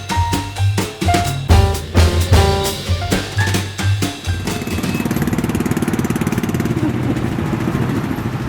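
A Grab motorbike taxi in Vietnam, its small engine starting with a series of sharp revs and pops, then settling into a steady close chugging idle.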